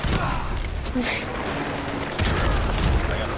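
Rapid video-game gunfire with dull booms and a rocket blast from a military rescue-operation shooter, dense bursts throughout, with someone talking over the battle.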